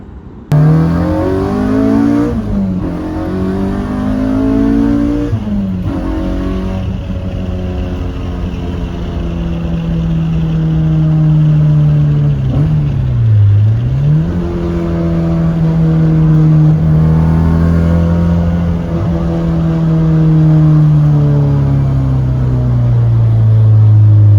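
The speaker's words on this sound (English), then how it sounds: "So I ended up taking the car out for a little drive." A modified car drives and accelerates, its engine note climbing steadily through gears with smooth rising and falling pitch sweeps, heard from inside the cabin at close range for the full stretch without voices.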